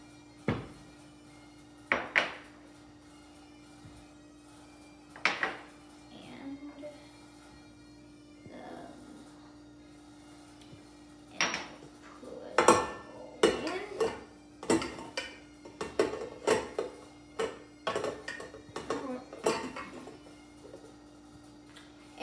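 A mixing bowl is lifted out and set back down, making several sharp clinks and knocks against a hard surface, with quieter handling clatter between them under a faint hum.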